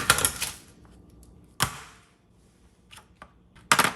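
A bread knife saws open a bread roll in a kitchen, giving short, crisp crunching strokes in separate bursts with quiet gaps between them, close by.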